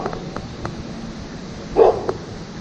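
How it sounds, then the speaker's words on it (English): A dog gives a single short bark, moderately close, over a low background hum. "What are you barking at?"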